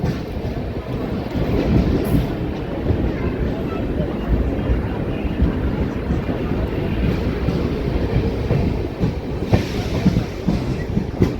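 A moving train on the Bidar to Machilipatnam route near Zaheerabad rumbles steadily throughout, a dense low roar with rhythmic rattling and occasional clanks, no voices standing out.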